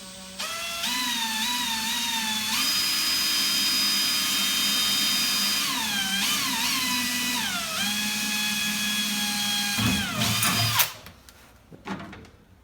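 A power drill boring a hole in a cramped workshop spot, its motor whining loudly and steadily for about ten seconds with shifting pitch as the bit bites, then winding down and stopping.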